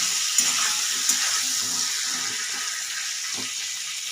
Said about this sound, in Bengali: একটু ঢাকা দিয়ে খুব ভালো করে একটু ভেজে নেব।